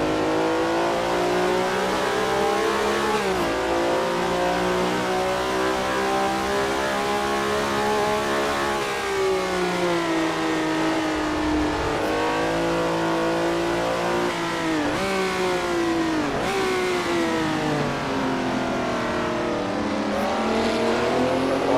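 Sixties sports cars racing at Daytona in Assetto Corsa during a historic 2.4-hour race: loud, continuous engine roar rising and falling through revs and gear changes as cars brake into the horseshoe, alone without talk.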